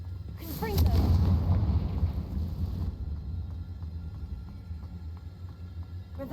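A Confringo blasting spell from the video game Hogwarts Legacy erupts as a loud, booming explosive burst, then settles into a steady low rumble with faint ticking in the background.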